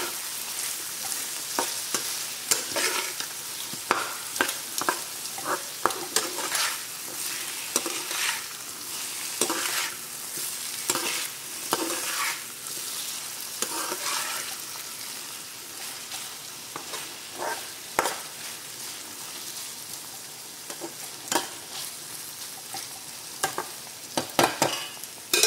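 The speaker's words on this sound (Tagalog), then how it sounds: "Hintayin natin na mag-saute ng tama. At saka lumambot na yung garlic. At saka yung onion." Garlic and onion sautéing in a pan with sardines, a continuous crackling sizzle broken by frequent stirring scrapes and clacks of a utensil against the pan, close and alone without talk.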